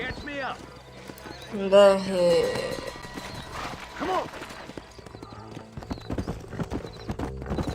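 Horse hooves clip-clop steadily in the Red Dead Redemption video game, along with a neigh near the start, while someone talks over the game audio.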